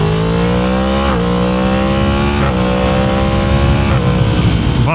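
Yamaha MT-10 motorcycle engine revving hard and continuously, pitch climbing in repeated throttle pulls with brief dips between, loud and close with no talk.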